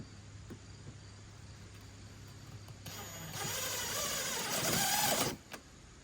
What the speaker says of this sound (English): I'm using self-tapping metal screws, sheet metal screws.